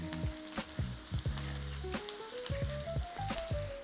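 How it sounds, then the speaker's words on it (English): Ribeye steak searing in butter in a hot pan, a soft continuous sizzle beneath repeated sharp taps and a sustained tonal melody. "I just need it to sear a little bit on that side"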